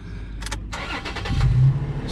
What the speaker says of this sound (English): let's run the engine again. Let's turn it off and start it up.